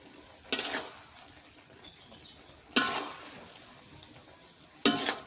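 A spoon stirs curry in a pan in three separate short scraping sizzles, each a quick burst followed by quiet, spaced a couple of seconds apart, fairly close and moderate in level.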